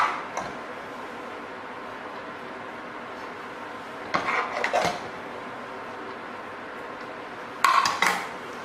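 Food spooned into a warm serving dish with two metal spoons for a sausage casserole accompaniment, giving two short bursts of scraping and clinking against the dish over quiet kitchen background.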